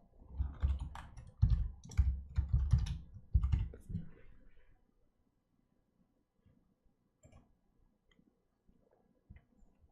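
Keyboard typing and clicking while renaming a Windows Server 2019 computer: a dense burst of close key taps for about four seconds, then near silence with a few faint isolated clicks.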